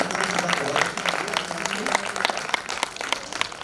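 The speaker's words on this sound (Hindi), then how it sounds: "एक बार जोरदार तालियां बजा दीजिए।" Applause rises from an audience at a Hindi poetry recital, a kavi sammelan, with a steady patter of many hands clapping at moderate loudness, mixed with some voices.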